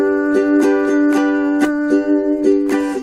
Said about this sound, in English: when I play the island strum, especially on this song, I almost can't help but throw a chuck in there on the second down strum